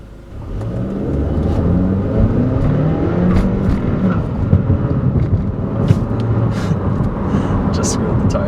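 A Kia Optima SX Turbo, a roughly 3,500-pound mid-size sedan, accelerates hard with a steady engine roar that holds loud and even for several seconds, while people talk over it.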